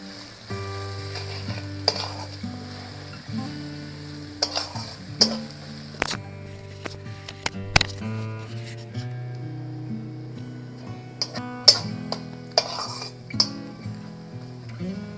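Spiced masala with a katla (rohu-type) fish head being sautéed for muri ghonto, with chilli powder and salt; spoon scrapes and clinks against the pan recur at irregular intervals over a low simmering sizzle, close and moderate in level, with no talk.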